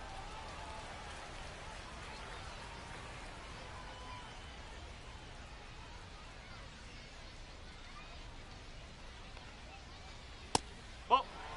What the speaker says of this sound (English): We'll see how well the field holds up with the way the rain is coming down.